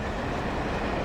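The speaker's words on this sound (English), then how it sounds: "Oh, there's a train." A train passes in the video game Alan Wake, a steady loud rumble of rolling wheels and carriages that holds evenly throughout, close by, with no voices.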